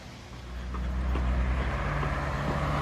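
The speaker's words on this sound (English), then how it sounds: "Interlaken Ast bus is ready, so it will start in 2 minutes." A bus idles at Interlaken Ost station in Switzerland, its engine rumble swelling then holding steady and fairly loud, with faint traffic noise around it.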